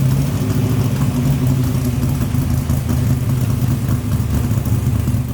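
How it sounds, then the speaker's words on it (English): The LS-swapped 1970 Chevy C10 idles with its aggressive cam, giving a steady, loud, low rumble that holds at an even pitch from start to finish. "This thing does have a nice cam in it, so it'll get you that rumbly idle you want"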